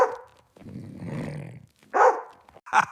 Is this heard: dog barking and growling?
yes